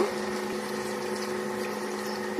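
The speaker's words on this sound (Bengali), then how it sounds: "এখন আমি হচ্ছে এই পর্যায়ে জল দিব।" Water pours steadily into a pot of braised, well-fried meat, a continuous close rushing splash that runs unbroken for the whole stretch.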